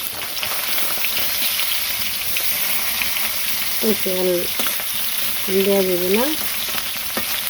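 Small fish frying in oil, a loud, steady crackling sizzle that runs throughout while someone speaks briefly over it and a few light clinks sound near the end.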